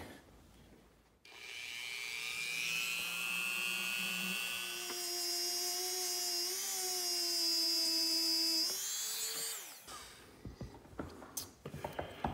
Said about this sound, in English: If you put a big gob of it on here, it's gonna fling off as soon as you turn that Dremel on.